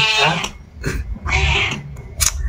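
A cat meows repeatedly and loudly at close range in a home, giving several drawn-out, wavering calls with short gaps between them.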